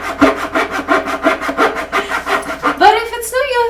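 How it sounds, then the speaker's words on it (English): Indoors in a living room, a hand hacksaw cuts wood for a homemade desk in a fast, steady rhythm of close back-and-forth rasping strokes, ending in a brief scrape and clatter. "making her own desk with a handsaw, a hand hacksaw,"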